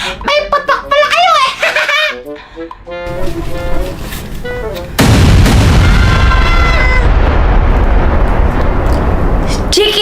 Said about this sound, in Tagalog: kung sino yung mas malakas ang putok ng boga